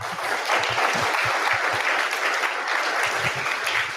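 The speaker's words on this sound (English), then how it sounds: "A big round of applause for them" A conference audience at a fundraising-beyond-venture-capital event gives a big round of applause for helpers: dense, steady clapping from many hands, loud and close, sustained for several seconds with no talking over it.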